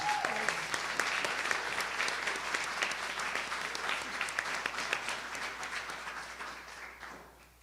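A town hall meeting audience in Houston breaks into sustained, dense applause, many hands clapping steadily close by, then tapering off at the very end.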